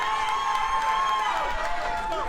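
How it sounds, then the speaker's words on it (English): A crowd at a TSW wrestling event cheers and roars in a steady, sustained wash of noise filling the arena, with voices carrying through. "listen to this great crowd getting behind"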